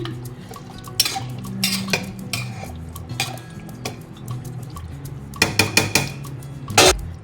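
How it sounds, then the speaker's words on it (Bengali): Mutton curry with potatoes stirred in a metal pot, a spoon scraping and clanking in bursts, denser and louder near the end, close by with a low background hum. "মাটনের লবণীয় রেসিপিটি একটু মিশিয়ে দিচ্ছি"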